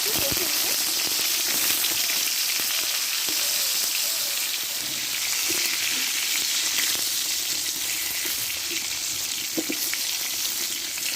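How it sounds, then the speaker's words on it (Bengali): Sliced pointed gourd (potol) sizzles continuously in hot white oil in a heated kadai, a dense, steady frying hiss with occasional crackles and no talking. "দিয়ে দেবো তোমরা সর্ষের তেলেও করতে পারো দিয়ে পটলগুলো ভালো করে"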